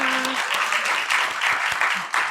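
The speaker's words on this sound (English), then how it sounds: "let's give him a little round of applause now" Applause breaks out for a guest on a podcast episode, a short burst of clapping with an intermittent voice over it.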